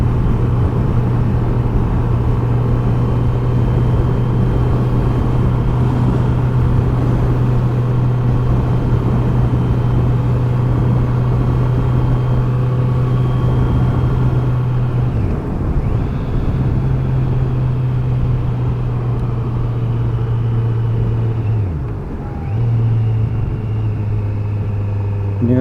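Kawasaki Z900 motorcycle on a ride, its engine holding a loud, steady low drone with slight shifts in pitch, accompanied by constant wind rumble.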